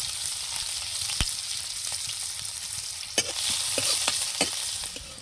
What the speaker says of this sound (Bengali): পেঁয়াজ আর আদাটা তেলে ভালো করে আমি কিন্তু একটু কষিয়ে নেবো